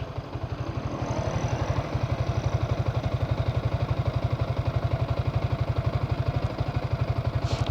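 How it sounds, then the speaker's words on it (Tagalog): A Yamaha Sniper 155R motorcycle engine idles steadily nearby. It is a fast, even, pulsing thrum with a mechanical clatter over it, checked for a possible tensioner problem, and no one talks over it. "yung tunog ng makina ko kung may problema ba siya sa tensioner"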